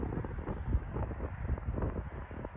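Strong wind buffets the microphone with a constant low rumble and gusty thumps, no voices, steady throughout.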